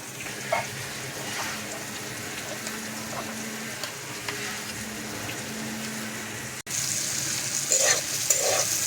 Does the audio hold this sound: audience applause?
no